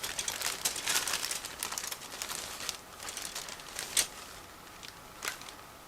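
Crinkling and rustling of a plastic bag holding gray plastic model-kit sprues being opened, in irregular bursts of crackle close by, with no voices.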